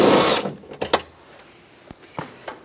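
A drill with a 10mm socket spins out a window regulator bolt inside a 2011-2015 Chevrolet Cruze front door: a brief loud whir at the start, then scattered faint clicks and taps.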